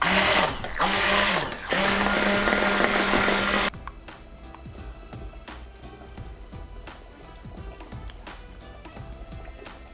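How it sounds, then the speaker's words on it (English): A kitchen blender (a Vitamix, then an immersion blender) whirs loudly and steadily for nearly four seconds, then cuts off, leaving quiet clatter and small handling knocks. "wash the Vitamix, and then we'll use our immersion blender"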